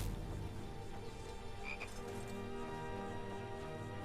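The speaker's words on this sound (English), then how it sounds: "I hear Le Frog." A frog croaks repeatedly in a Skyrim game world, a steady low rhythmic croaking that goes on alone without any talk.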